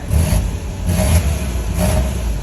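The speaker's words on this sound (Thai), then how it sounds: "เราก็จะมาเทสสตาร์ทดู เสียบเข้าไป เหยียบเบรกดูเกียร์" A car engine being test-started after new key and immobilizer programming, revving hard in three loud, close surges that swell and ease back over a steady running drone, with no talking.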